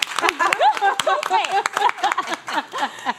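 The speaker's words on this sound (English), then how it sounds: "Let's just clap for Ree" Talk-show hosts clap for a returning co-host at the table, a few sharp hand claps scattered under lively overlapping talk and laughter.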